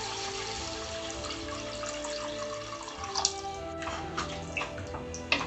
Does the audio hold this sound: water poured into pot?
yes